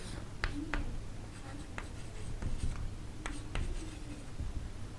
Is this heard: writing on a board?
yes